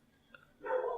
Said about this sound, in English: Well, there goes my dog.